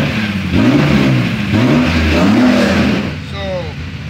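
BMW E36 M3 fitted with an S54 engine accelerating hard, the loud revs climbing and dropping through repeated gear pulls, close and dominant, then easing off near the end.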